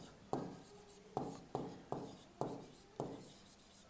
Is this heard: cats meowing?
no